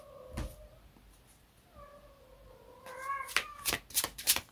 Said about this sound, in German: Meine Katze im Hintergrund,